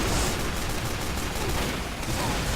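Dense, rapid gunfire in a shooter video game, including pistol shots, crackles continuously and loudly for the whole moment with no pauses.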